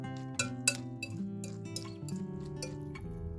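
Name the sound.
utensil clinking while mixing chopped beef ham into pasta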